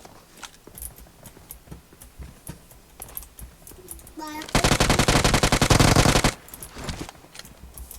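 A weapon fires in the shooter game PUBG Mobile. After scattered light clicks and thuds, a loud, rapid automatic burst of shots lasts about two seconds and then stops suddenly, and faint voices can be heard.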